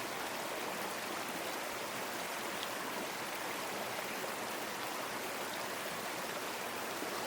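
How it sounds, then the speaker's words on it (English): A shallow mountain creek running at low flow, a steady broadband wash of moving water heard close and alone, with no voices. "I made it down the hill and I am at the creek, and the flow is not that much"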